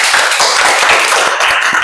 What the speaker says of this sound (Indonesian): Sekali lagi beri tepuk tangan yang keras.